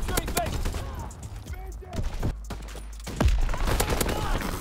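Bren LMG firing in Call of Duty WW2, with sharp bursts of automatic gunfire and scattered single shots amid game noise and a deep boom, while a voice talks over parts of it.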